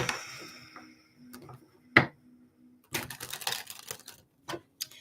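Tarot cards shuffled by hand at close range, giving sparse light taps and clicks, a sharp snap, then a quick burst of riffling flutter followed by a few scattered taps.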